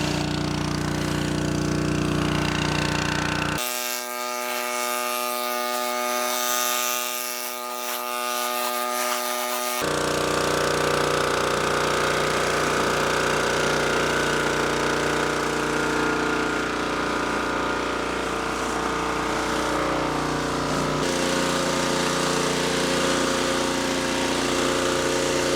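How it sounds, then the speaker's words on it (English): Pressure washer with a surface cleaner cleaning a concrete driveway, a loud continuous engine drone and hissing spray, briefly dropping to a buzzing hum before the full roar returns. "using this surface cleaner."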